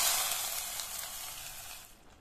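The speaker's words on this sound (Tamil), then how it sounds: "இதை நல்லா இந்த மாதிரி மிக்ஸ் பண்ணி விட்டுட்டு தாளிப்பை இந்த கூட்டில் சேர்த்துடலாம்" Hot tempering poured into cabbage kootu, a bright hissing sizzle that starts loud and gradually fades over a couple of seconds, close and alone.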